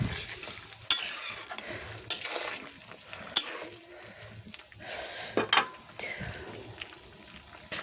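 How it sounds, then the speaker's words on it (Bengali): A spoon stirring prawn curry with green chillies in a metal pan, scraping and clinking in irregular strokes with sharp utensil knocks, close by, over a faint sizzle. "দিয়ে আমি একটু ভালো করে আমি নেড়ে নিচ্ছি।"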